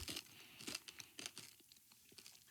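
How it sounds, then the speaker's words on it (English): Candy-shelled milk chocolate Easter eggs crunch close to the mouth in several distinct bursts, sharp crackling bites separated by short pauses with quieter chewing between them. "I don't know if you can hear that, but they're really crunchy."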